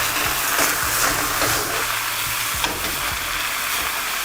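Spicy Korean takeout-style noodles stir-fried in a hot pan, a steady loud sizzle with soft scraping and tossing of the ingredients, no voices.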